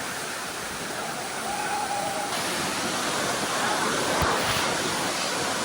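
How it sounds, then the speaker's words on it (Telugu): A 300-foot waterfall in Kolli Hills, its water pouring from a great height into a dense, unbroken roar that stays loud and close throughout, with a faint thump near the end. "అంత పైనుంచి పడుతున్నాయి వాటర్"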